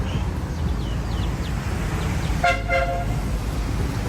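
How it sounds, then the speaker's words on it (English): A taxi horn gives a single short double-toot midway through, over steady distant street traffic noise in San Isidro, Lima. "they have taxis that make this peculiar kind of noise"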